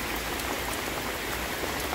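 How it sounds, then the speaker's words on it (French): Heavy rain shower pouring down during a cycling trip in Belém, Brazil, a dense, even hiss of drops hitting leaves and surfaces, close and constant with no voices. "Je me suis fait pogner par une averse, mais je suis à l'abri d'une feuille."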